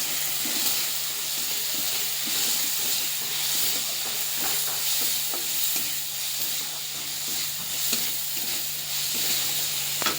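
Sweet potato frying in a pan with chilli powder, ginger paste, salt and cumin powder, giving a steady close sizzle with stirring scrapes and a constant low hum underneath, no one talking.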